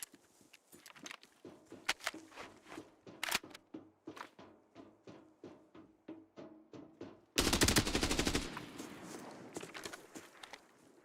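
Gunfire in the Arena Breakout Infinite shooter game while fighting snipers: a run of evenly spaced sharp shots, one burst after another, then a loud dense stretch of rapid fire, with quieter single reports around it.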